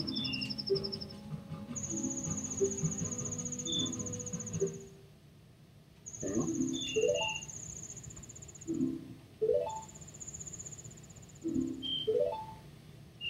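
Crickets chirp in Zelda: Majora's Mask, rapid high trills repeating in bursts over a soft ambient game soundscape with a few rising chirps, fairly faint and steady, no talk.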